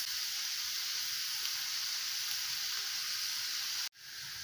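Onion sautéing in a pan gives a steady, bright, even sizzle and hiss close by, running unbroken until a sudden cut near the end, with no talking.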